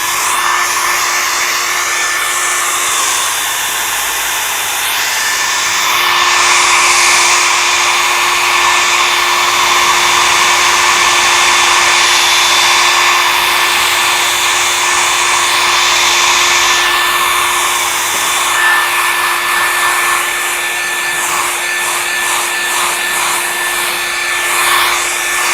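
A hair dryer blows steadily and loudly for a long stretch, a continuous close whooshing drone with a high whine, rising and falling slightly as it moves, with no talking.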